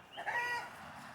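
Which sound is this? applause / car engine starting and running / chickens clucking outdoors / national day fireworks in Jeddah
chickens clucking outdoors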